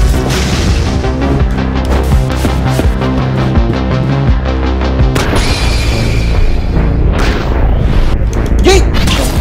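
A generator explodes in the video game Katana Zero with heavy booming crashes that land over dense, loud game music and effects, with a bigger blast partway through.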